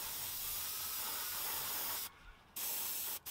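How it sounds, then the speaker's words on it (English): An airbrush sprays paint onto an Atlas 73-foot center beam flat car model with the compressor pressure turned up. It makes a loud, steady, close hiss that cuts out briefly twice. "I'm going to crank up the pressure on the compressor and then just wash a lot of it away and let it run where it wants."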